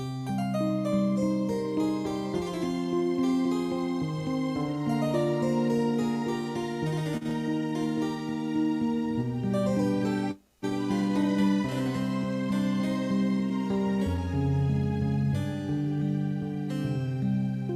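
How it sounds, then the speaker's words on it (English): Layered string-section voice from a Yamaha Clavinova CVP digital piano plays a flowing, sustained passage over other parts, with a brief dropout midway before the music resumes. "I'm going to put in some nice strings here."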